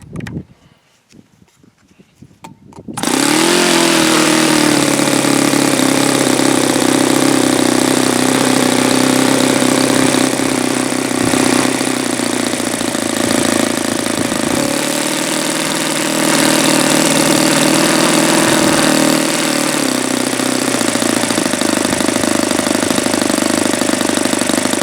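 A Saito FA-72a model airplane engine sputters briefly, then catches and runs loud and steady at a constant buzzing pitch, dipping slightly a few times, with no talk.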